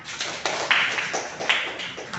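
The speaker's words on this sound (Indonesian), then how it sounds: "Iya, sudah, tepuk tangan" A small group of schoolchildren in a classroom clap their hands, a loose ragged patter with a few sharper claps rising out of it.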